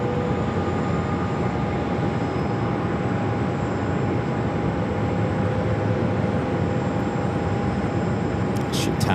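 An airliner lands on runway 25 left at Phoenix Sky Harbor airport, heard as a loud, continuous broadband engine roar with a steady tonal whine running throughout.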